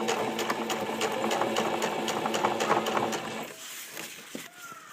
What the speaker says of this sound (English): I like to sew with the needle in the down position.